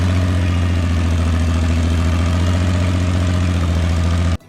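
A Farmall 560 tractor's large engine running close by, a loud, steady low rumble with an even rapid pulse throughout, cutting off abruptly at the end.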